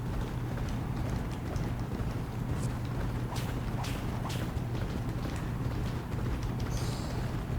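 Galloping racehorses in the Champion Jockey video game, a dense continuous rumble of hooves thundering together in a pack, steady and loud throughout with no talk.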